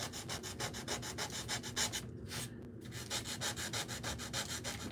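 Steady rhythmic rubbing of sandpaper on wood, quick back-and-forth strokes close up, with a brief pause midway.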